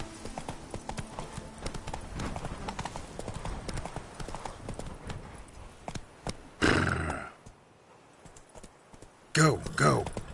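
A horse gallops in the video game Witcher 3 Blood and Wine, rhythmic clip-clop hoofbeats running steadily under speech, then a loud whinny and snorting bursts near the end.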